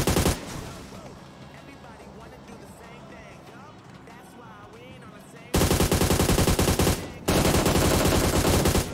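Loud rapid automatic gunfire in the mobile battle game PUBG Mobile, two sustained bursts following a stretch of quieter game ambience, with players' voices chatting over the action.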